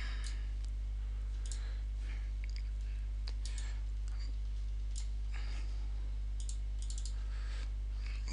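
Computer mouse and keyboard clicks while working in TopSolid 7 CAD software, a scattered series of sharp, close clicks over a steady low electrical hum.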